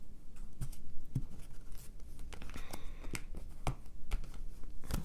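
A shuffled Chakra Tarot deck is cut by hand, giving soft card-slide and paper-tap sounds, a few sharp flicks and light rustles, fairly close and quiet.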